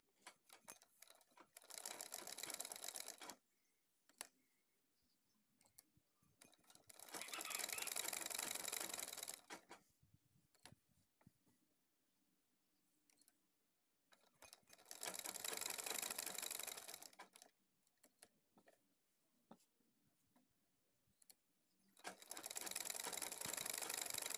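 Sewing machine stitching a patch onto an unfinished shirt sleeve. It runs in four long bursts separated by quiet pauses, close and moderately loud, with no speech.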